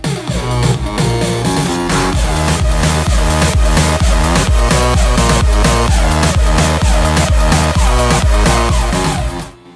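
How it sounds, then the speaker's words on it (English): An EDM beat pounds out with a steady four-on-the-floor kick, ticking hi-hats and layered percussion, dense and loud throughout before stopping abruptly, with no voices. "It's nothing more than a kick drum and just some hi-hats and some percussion."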